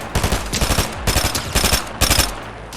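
Rapid automatic weapon fire in Fortnite, several loud, tightly spaced bursts of shots repeating in quick succession, close and dominant with no talking.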